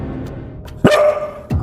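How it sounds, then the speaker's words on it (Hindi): A dog barking on command gives two sharp, close, loud barks about half a second apart, with a soft whine before them. "तुझे भौंकना पड़ेगा पाइनएप्पल, तुझे भौंकना पड़ेगा।"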